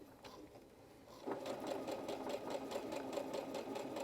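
Sewing machine stitches a curved patch pocket. It runs at a steady rapid rhythm close by, after a brief quieter start, with no talking over it.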